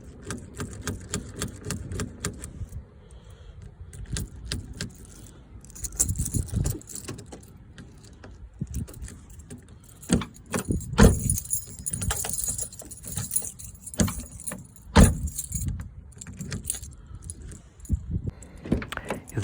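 A key turning and jiggling in a stiff car door lock that won't turn from outside, with close metallic clicks and rattles in irregular bursts that grow busier as the lock loosens.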